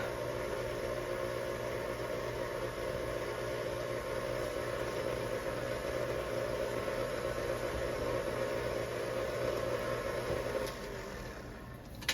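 A stand mixer fitted with a dough hook mixes flour into cinnamon roll dough with a steady motor whir and hum, running continuously before easing off near the end.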